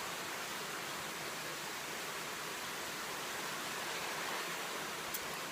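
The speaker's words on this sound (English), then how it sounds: "Right now as it rains, it's beautiful." Steady rain falls in the Ecuadorian jungle, a dense, even hiss of drops spread evenly throughout, with no voices.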